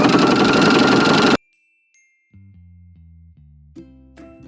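Sewing machine running a zigzag stitch along folded stretch fabric for a neck warmer, heard as a loud steady motor whir for over a second, then silence, then softer intermittent stepped hums of slow stitching.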